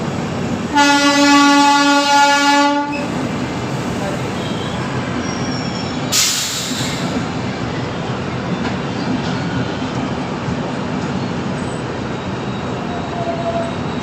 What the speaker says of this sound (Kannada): ಇವಾಗ ನೋಡಿ ಯಾವುದೋ ಒಂದು ಟ್ರೈನ್ ಬಂತು